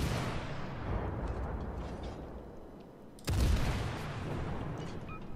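Warship naval guns fire in the World of Warships game: a low rumbling background, then one loud, sharp boom partway through that rolls off into a sustained rumble, no talking.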